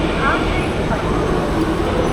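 A metro train rolls into a Hyderabad station with a steady rumbling roar and faint squeal, fairly loud and continuous, while people talk nearby.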